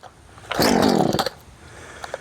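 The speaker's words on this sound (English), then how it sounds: "let's fire it up and see how she cuts" A Poulan Farmhand 2500/2900 chainsaw, just revived, fires up and revs hard for under a second with a rising buzzing whine, then drops back to a low idle burble.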